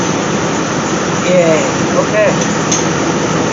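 A Chevy or GMC truck engine runs steadily right after a fuel pump replacement, a continuous hum under brief cheering voices.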